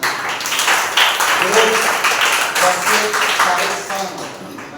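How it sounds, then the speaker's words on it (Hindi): A congregation at a Sunday church service breaks into loud, dense clapping that fills the room, with voices mixed in under the applause. "एक जोरदार ताली बजाइए"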